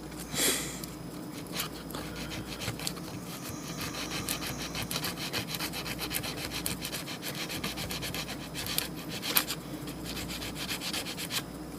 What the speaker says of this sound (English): So take a little sandpaper to do that.